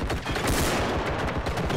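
Gunfire in the video game Bodycam, a rapid burst of automatic shots rattling loudly and continuously for under two seconds, close and dense.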